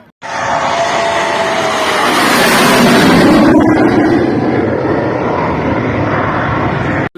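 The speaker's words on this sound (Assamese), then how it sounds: "ইয়াত সুখয় বিমান ৰাফেল আদি কৰি বিমানে ইয়াত অৱতৰণ কৰিছে" Military jets such as Sukhoi and Rafale at an air force show in Moran give a loud, continuous roar that swells and holds steady for about seven seconds, with no voices over it.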